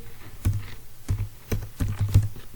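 Keys clatter on a computer keyboard while C code is typed, a few quick bursts of clicks with short pauses, close and fairly clear, with no talking.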